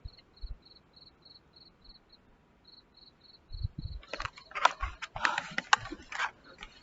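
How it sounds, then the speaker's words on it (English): Crickets chirping at night near a beach boardwalk behind sand dunes, a faint regular pulsed trill in steady short bursts, then masked by loud clattering and bumping noises up close. "But you hear the crickets?"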